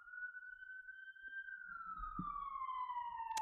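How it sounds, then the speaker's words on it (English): An emergency vehicle siren passes outside, a single steady wailing tone that slowly falls in pitch as it goes by, fairly faint and distant, with a few soft room knocks and a brief click near the end. "Let's take a moment for that siren."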